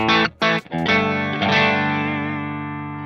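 A distorted Suhr Classic S electric guitar strikes a few short chords, then lets one ring out with a thick, buzzing sustain that slowly fades.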